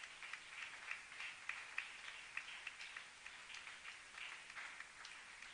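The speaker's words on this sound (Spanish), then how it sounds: "Demos un aplauso al Señor Jesús." Congregation applauding for Jesus during a church service, a steady wash of many hands clapping at a moderate distance, sustained and fairly quiet throughout with no talk over it.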